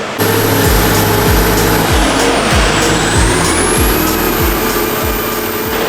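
A stroked, turbocharged V8 Land Cruiser engine with an 8-speed gearbox roars steadily at high revs on a dyno, loud and close, with a rhythmic low thumping pulse and a rising and falling high whine.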